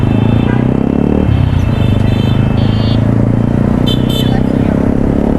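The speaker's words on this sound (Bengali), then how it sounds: "না একজস না এটা স্টকের সাউন্ড বাট একটু রেপ করে চালাচ্ছে" A motorcycle with a stock exhaust is ridden hard and revved on a road toward Kaptai in Bangladesh, giving a loud continuous engine drone close by with road noise around it.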